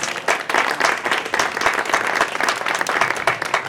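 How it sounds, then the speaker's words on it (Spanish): An audience at a historical-novel event in Viguera applauds a group of reenactors with a dense, steady burst of clapping that carries on evenly from start to finish, close and fairly loud. "un aplauso para ellos"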